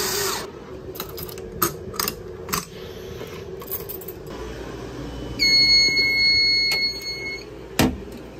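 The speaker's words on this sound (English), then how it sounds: "we're gonna grab the trusty drill here." Sharp metallic clicks and taps from a power drill being used to reset a vintage Wheelock fire alarm panel, followed by a high electronic tone that sounds for a couple of seconds, then a loud clack near the end.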